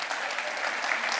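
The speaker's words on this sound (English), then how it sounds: "Look at you all clapping." Conference audience at a software developers' event applauds after a demo, a brief, dense, even burst of many hands clapping in a large hall.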